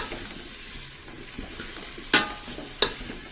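Radish and potato sambar vegetables stirred with salt in a pot, soft scraping and simmering under two sharp clinks of a spoon against the vessel near the end.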